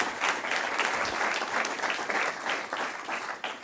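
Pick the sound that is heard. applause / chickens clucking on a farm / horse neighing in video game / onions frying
applause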